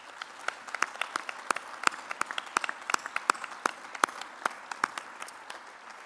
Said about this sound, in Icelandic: Gefum henni gott klapp og þeim báðum.